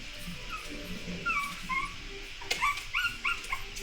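Six-week-old and four-week-old pug puppies whimper and cry in a small litter, high thin whines and yips coming in short bursts, sparse at first and then clustered, close and fairly quiet.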